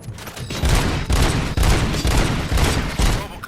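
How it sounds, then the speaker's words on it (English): Rapid bursts of gunfire crack out in a loud, repeated volley, several shots spaced about half a second apart, with no talking. "Gunshots? What's going on?"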